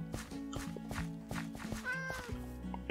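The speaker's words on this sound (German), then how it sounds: "Was macht die Katze da?" Cat meowing in the Minecraft video game, a few short mews close up over light game background with faint footsteps.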